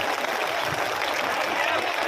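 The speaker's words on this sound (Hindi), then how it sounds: "आप सभी लोग हमारे बहन जी का ताली बजा करके एक साथ स्वागत करेंगे, ताली बजा करके सभी लोग।" At a Bahujan Samaj Party election rally in Madhya Pradesh, a large crowd claps to welcome Mayawati, a dense, continuous roar of applause filling the whole moment without a break.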